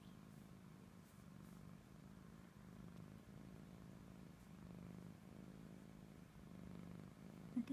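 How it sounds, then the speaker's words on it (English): A female cat with an extra toe, lying in the sun while being petted, purrs in a steady, low, continuous rumble, close and soft, with no talking over it. "Oh, she's purring."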